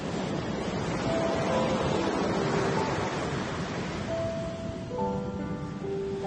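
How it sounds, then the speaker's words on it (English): Pacific Ocean waves at a beach, a continuous broad roar of surf with wind buffeting the microphone and faint tonal sounds toward the end. "Hi, we're at the beach. The Pacific Ocean."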